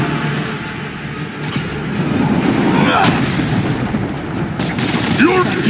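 Gunfire and explosions in a Spider-Man game, with heavy booming blasts and crackling shots over a dense, noisy battle din, loud and continuous, with brief voices mixed in.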